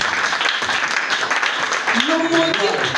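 A church congregation at a special French-language worship service claps and cheers in praise of Jesus, a steady wash of applause with voices rising over it.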